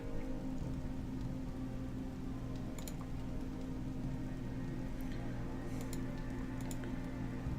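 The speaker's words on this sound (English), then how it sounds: "Please stop raining." Steady rain falls in the video game Gothic 2, a constant soft hiss with a low hum beneath and a few brief clicks scattered through, with no voices.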